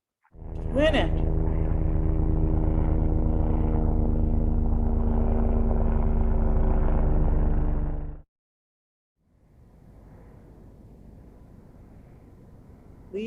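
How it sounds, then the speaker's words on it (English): A twin-engine aircraft flying overhead produces a loud, steady propeller drone with strong low harmonics that stops abruptly, then a quieter rustle of leaves in the wind follows. "a twin engine aircraft"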